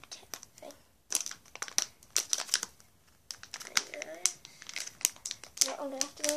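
A boxed Annie Magic Rescue Hospital toy package being opened, with close, repeated plastic crinkling and tearing bursts, interrupted by short pauses and faint talking.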